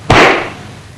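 A methane and air mixture ignites inside a combustion chamber with one sudden loud boom, its sharp onset followed by a roaring decay that fades over most of a second.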